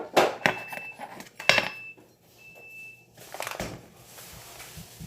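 Baking soda is scraped level off a measuring spoon: short scraping and clinking strokes of metal against a container, with a quiet tone in between and light rustling at the end, no talk.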